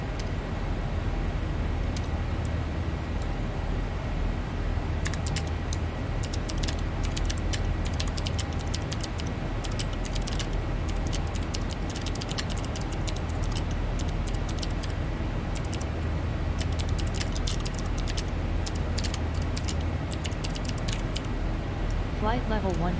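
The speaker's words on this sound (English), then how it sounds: "I'm sitting here typing" Rapid, steady computer keyboard typing clicks over a constant low hum from a home flight-simulator setup, running the whole time at moderate loudness.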